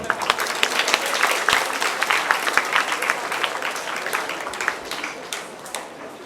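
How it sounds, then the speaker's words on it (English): An audience at a Diwali celebration gives loud, sustained applause as prize winners come on stage, dense clapping rolling evenly for several seconds and tapering slightly toward the end. "They deserve their loud applause."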